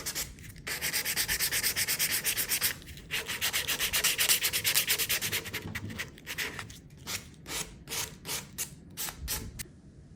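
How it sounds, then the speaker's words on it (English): Steady back-and-forth sanding with 220 grit sandpaper smoothing a filed chamfer on a wooden table leg, close and continuous at first, then breaking into shorter separate strokes. "here I'm using some 220 grit sandpaper just to take out the file marks and smooth out the chamfer"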